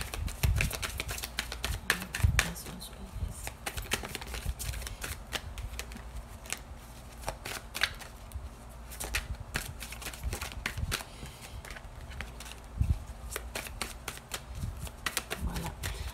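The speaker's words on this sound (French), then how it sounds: "je vais juste neutraliser le paquet avant de faire la coupe maintenant pour les vierges" A tarot deck being shuffled and cut, with dense, continuous riffling and flicking of cards close up, broken by sharper snaps and taps, and no talking.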